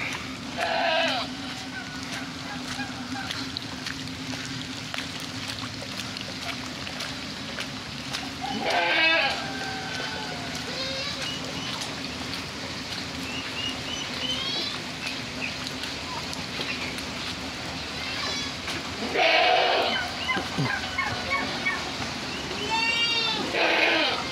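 Several goats bleat intermittently over a steady outdoor farm background, with a few louder, nearer bleats standing out among fainter ones.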